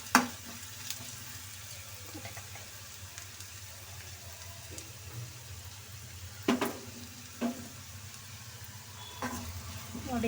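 An egg fries in a pan while chili powder and salt are sprinkled over it on a low stove, giving a steady soft sizzle with a few sharp clicks and scrapes of a utensil against the pan.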